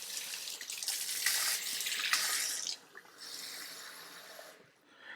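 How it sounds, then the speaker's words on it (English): A small amount of water pours from a tap into a container while panna cotta is being made in a kitchen, giving a steady, fairly faint splashing rush that stops and briefly resumes, with no talking. "Just going to put a little bit of water in this."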